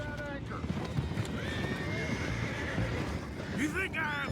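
Horses whinny and hooves clatter in a Red Dead Redemption 2 game scene near water, a high neigh rising near the end over a dense, steady bed of ambient noise and distant voices.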